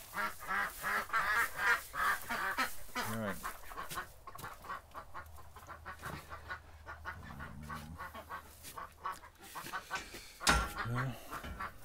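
A flock of waterfowl quacks and clucks in busy, overlapping bursts, with one sharp louder call near the end; the sound is somewhat distant and muffled.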